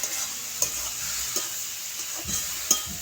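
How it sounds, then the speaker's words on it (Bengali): Sweet pumpkin bhaji sizzles steadily in a pan while a spatula scrapes and stirs it in a few distinct strokes, close and moderately loud, with no voices. "দেখেন আমাদের মিষ্টি কুমড়ার ভাজি হয়ে গেছে।"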